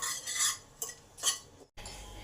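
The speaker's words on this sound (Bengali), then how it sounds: "দিয়ে ভালো করে এই গরম অবস্থাতেই একটু চামচে করে নেড়ে নিলাম।" A spoon stirs ground spices with coriander powder in a hot pan, making a few close scraping strokes of metal on metal, then a short pause before the low pan noise carries on.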